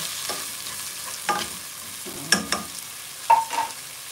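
Water going into a hot cooking pan that is already sizzling, with a steady frying hiss and a few sharp bursts of spatter and stirring scrapes, fairly quiet and close, without any talking.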